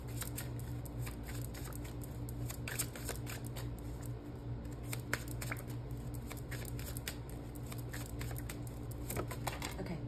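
Tarot cards are shuffled by hand up close, a soft steady stream of riffling and rustling with small flicks and taps, quiet and continuous.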